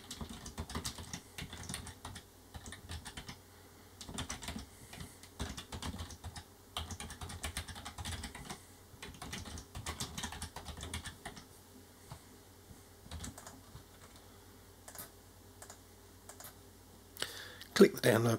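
Computer keyboard typing in quick irregular bursts of clicking keystrokes, close and clear, pausing now and then while a voice narrates over parts of it.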